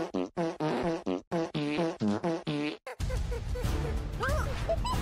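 A cartoonish fart sound effect, a long buzzing blare, follows a few seconds of loud, animated talking and then continues over a noisy, cluttered background.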